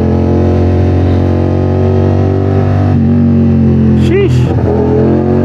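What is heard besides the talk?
450SR/SS sports motorcycle engine revving on a night ride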